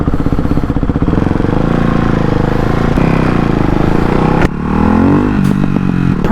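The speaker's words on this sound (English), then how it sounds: "Perks of riding a motorcycle," A BMW S1000RR motorcycle engine drones steadily and loudly up close while riding through traffic, with a brief dip and then a rising rev near the end.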